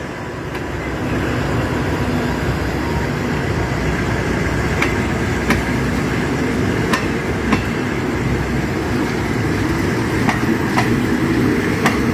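Ordinary train 276 pulls out of Phaya Thai halt in Thailand with a continuous low rumble of rail cars and periodic sharp clicks from wheels over rail joints. It holds steady and fairly loud for about twelve seconds.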